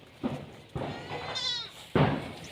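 Stall-fed goats in an enclosed pen bleat a few times up close, short calls spaced across a couple of seconds with a dull thud among them.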